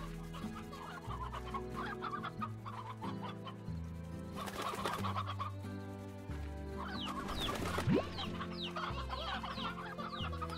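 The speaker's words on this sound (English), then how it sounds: "you can put chickens in the auto feeder" Chickens cluck in the farming video game Slime Rancher, a run of short repeated clucks and squawks over a steady droning game music bed, with one louder squawk near the end.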